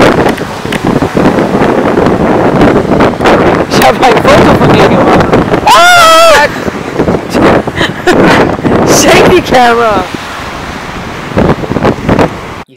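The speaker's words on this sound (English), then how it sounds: "You hear how windy it is?" Strong wind gusts roar across the Baltic Sea beach with surf in the background, blustering almost continuously at close range while people talk over it.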